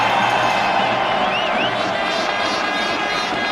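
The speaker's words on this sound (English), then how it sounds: "It's enough to get the crowd roaring." A cricket crowd roars at an India v Pakistan one-day match in the 1999 Sharjah Cup. The cheering is a dense, sustained swell throughout, and a faint whistle rises briefly in the middle.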